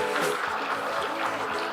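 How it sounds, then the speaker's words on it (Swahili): Audience at a national human rights anniversary debate applauding, a steady, dense wash of clapping that holds at an even level for the whole stretch, with no voices rising above it. "Pigie makofi."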